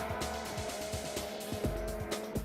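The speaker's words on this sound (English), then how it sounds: "Many national parks ban snowmobiles as disruptive and noisy." Snowmobiles ride in Revelstoke, British Columbia, their engines whining loudly and steadily, with rhythmic revving surges and track clatter close by.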